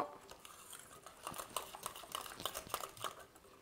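Whisking vegan chocolate cake batter in a bowl, a quick, irregular clatter of the whisk tapping and scraping the bowl, faint and close.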